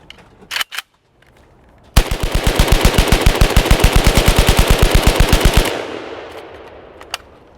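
A rifle fitted with a rate-increasing device fires one long, rapid, evenly pulsing burst of about four seconds, loud and close, after a few separate sharp shots.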